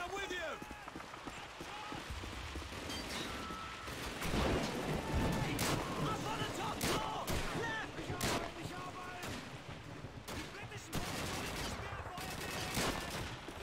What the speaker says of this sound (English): There's an MG42 at the end of this road.